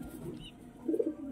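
Pigeons in a home loft coo softly in low, rounded murmurs, with a slightly stronger burst near the end, at close range with no talking.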